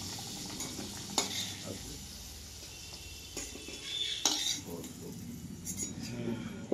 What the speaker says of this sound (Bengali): এই যে আলুগুলো ভাজা হয়ে গেছে, এবার আমি এক একটা করে উঠাবো। খুব সাবধানে উঠাবো যেমন তেল ছিটকে না যায়।